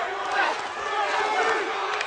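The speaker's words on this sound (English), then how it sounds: "the crowd loves it" Crowd at an Armed Forces boxing match roaring and shouting steadily through a round, a dense wash of voices without clear breaks, moderately loud.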